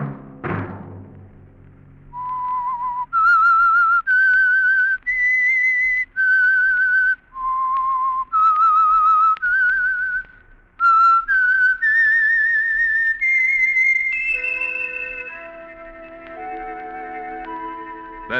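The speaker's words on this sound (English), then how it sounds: "Let that whistle be your signal for the Signal Oil program" A solo whistled melody, the theme of the radio drama The Whistler, clear and close, moving through a series of held notes with slight echo before a sustained ending tone.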